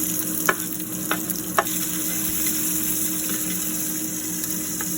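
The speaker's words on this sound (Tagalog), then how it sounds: "Ayan po, mainit na mantika. Ilagay ang bawang, buyas," Garlic and onion hitting hot oil in a pan, a continuous close sizzle with a few sharp spits and crackles early on, steady and loud throughout with no voices.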